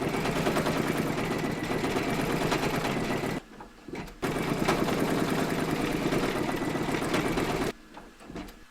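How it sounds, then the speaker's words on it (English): An embroidery machine stitches a coaster design with a fast, steady mechanical chatter. It runs in two long bursts, each ending in a short pause. "Load your thread colour for the green jewels into your machine, and then stitch round number 11."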